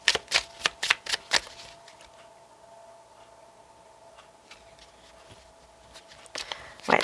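Tarot cards shuffled by hand in a quick run of crisp riffling bursts, then a quiet pause with a faint tone before a few more card snaps, close and clear.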